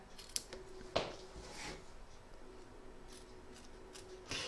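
Scissors trim the fabric of a large double-sided Santa applique, with a few quiet, separate snips spaced out against a faint room hush.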